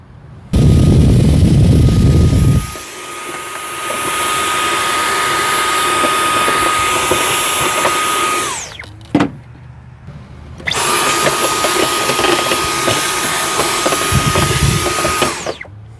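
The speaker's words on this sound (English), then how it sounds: "Let's grab a little vacuum, get that sand out of there." A small handheld vacuum clears sand from the engine air filter housing of a 2011–2017 Dodge Ram 1500 3.6 L pickup, running with a loud steady whine that cuts out briefly and restarts, close by with no talking.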